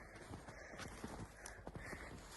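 Hooves of draft horse mares clip-clop in a faint, uneven rhythm of a dozen or so soft strikes, heard from a distance over a low background rumble.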